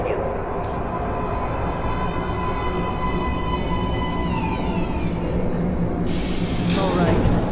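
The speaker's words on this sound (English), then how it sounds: "Train coming in." A metro train pulls into an underground platform in the game Metro Last Light Redux, a loud, close, continuous rumble and rattle of wheels and cars with squealing high tones from braking, building toward the end.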